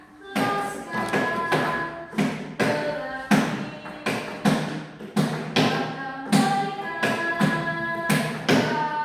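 Rhythmic tapping keeps a steady beat for a song, sharp thumping strikes repeating evenly and loud with ringing tones behind them, no voices.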